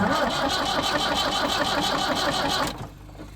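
An engine cranks over with a steady rhythmic churning starter sound for nearly three seconds, then stops abruptly.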